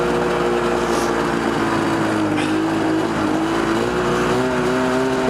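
A go-kart with a swapped-in snowmobile engine runs loud and close, a steady buzzing drone that rises slightly in pitch under light throttle, with a suspected jetting problem.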